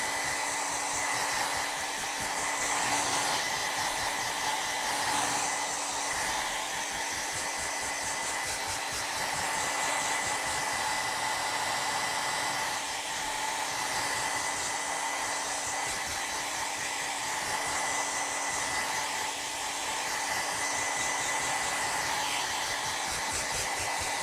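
Steady, loud whooshing hum of a hair dryer blowing over acrylic paint on a canvas, running continuously without pause and heard alone with no voices.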